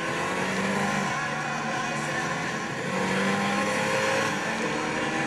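A race car in Gran Turismo 6 holds a steady, loud, droning engine tone throughout, with a small dip in the middle and no separate braking or tire sounds standing out.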